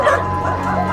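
Rescued dogs from a meat farm yip, whimper and bark in a steady busy chorus, close and fairly loud, with no clear speech over them.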